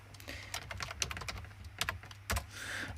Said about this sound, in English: you can type in text down here